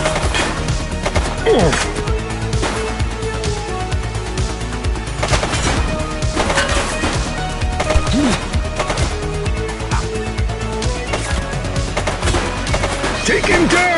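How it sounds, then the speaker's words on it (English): Gunshots from a shooter crack and rattle in rapid bursts throughout a police video game firefight, loud and close, with a brief exclamation from a voice. "She's shooting!"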